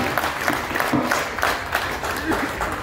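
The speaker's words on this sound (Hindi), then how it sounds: "आप लोग जोरदार तालियों से स्वागत कीजिए" A large outdoor rally crowd at the Jan Suraaj Padyatra in Vaishali district claps loudly to welcome Prashant Kishor, with dense applause continuing under a speaking voice.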